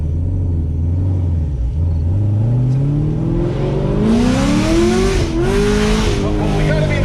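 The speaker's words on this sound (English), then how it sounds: "just hold your foot on the gas, push the clutch in and make the shift and see if it maintains" Chevrolet Camaro engine revs with a rising, sweeping pitch that climbs steadily through a clutch gear shift, loud and close, with a brief dip and recovery mid-rise and voices talking faintly underneath.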